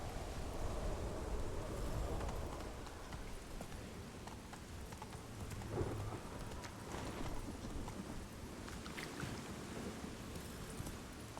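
Hooves of a horse ridden in The Witcher 3, a continuous rhythmic clip-clop of galloping at moderate level beneath ambient game sound, with no talk.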